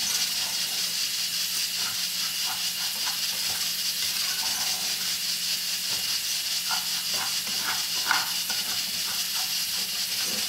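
Food sautéing in a pan until it starts to stick and scorch on the bottom, a steady, loud sizzle and hiss that continues without a break, with faint clinks now and then.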